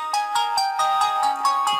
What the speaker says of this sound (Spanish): el tono de teléfono por defecto se nos ha transformado